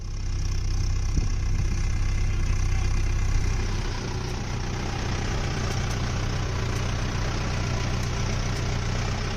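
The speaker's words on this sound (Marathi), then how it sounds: "शिवाय चालणारा हा ट्रॅक्टर पाहून घाबरून जाऊ नका" A driverless tractor fitted with autopilot sowing technology runs its engine in a farm field in Akola, giving a steady loud diesel drone with a deep low rumble that eases slightly after a few seconds, with no talking.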